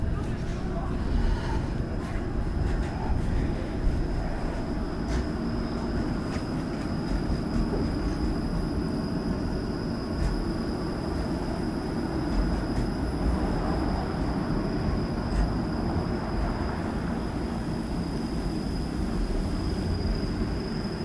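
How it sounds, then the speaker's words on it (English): A Toronto streetcar on route 501 rumbles through a turn on a street in The Beaches, a steady low mechanical drone with faint high squeal lasting throughout, mixed with outdoor traffic ambience. "So the streetcar is going to turn here."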